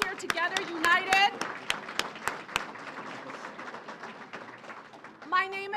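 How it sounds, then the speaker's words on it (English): Crowd applause breaks out at an SEIU union rally over airport wages, a steady wash of clapping between stretches of someone speaking over a loudspeaker at the start and end. "Let's give each other an applause for being here together, united."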